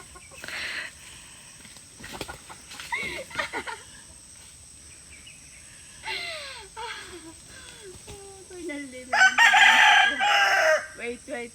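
A rooster crows several times, with clucking and other farmyard sounds between calls; the final crow is loud and close.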